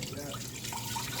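Liquid pours into an Instant Pot with a soft, continuous splashing trickle, faint and close.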